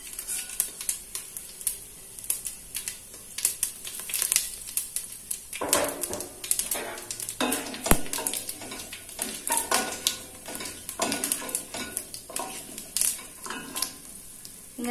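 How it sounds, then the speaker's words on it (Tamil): Whole spices are tempered in hot ghee in ALPXEL cookware over a low flame. A lively, continuous sizzle is broken by frequent crackling pops and spatters, fairly close and moderately loud. "இந்த தாளிக்கிறதுக்கு தேவையான எல்லா ஸ்பைசஸும் ஆட் பண்ணிரலாம்"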